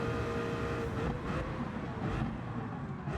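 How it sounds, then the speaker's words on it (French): A car brakes hard at Mulsanne in Gran Turismo 7, its engine note dropping from a loud, busy roar as it slows over a few seconds, no talk. "Ça peut très mal finir au freinage de Mulsanne. D'ailleurs on s'y approche. Donc là gros freinage."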